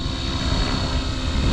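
An Align T-Rex 550X RC helicopter flying backwards in about a 10-mile-an-hour wind, its rotor and motor whir steady and fairly close through a brief stretch, with no talk.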